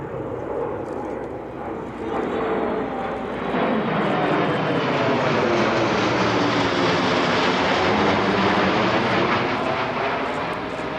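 A C-17 Globemaster III transport jet flying past at an airshow, a broad, steady engine roar that builds and holds loud as it passes, with a sweeping rise and fall in tone.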